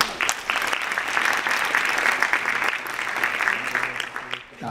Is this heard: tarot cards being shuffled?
no